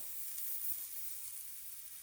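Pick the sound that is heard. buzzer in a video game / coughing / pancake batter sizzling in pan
pancake batter sizzling in pan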